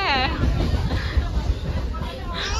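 Steady rumbling rattle inside a moving passenger train, with voices and a child's sounds heard faintly over the continuous carriage noise.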